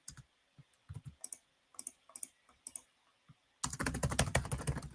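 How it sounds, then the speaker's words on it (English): Keys clack on a computer keyboard in short irregular bursts with pauses, then break into a dense, fast run of typing at the end, close and clear. "So if I keep typing,"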